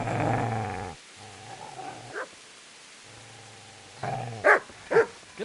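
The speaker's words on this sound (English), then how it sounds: "Get away, you mutt!" Dog in Kingdom Come Deliverance 2 growling and barking close by, a steady low growl giving way to a few sharp barks and yips near the end, with no talk.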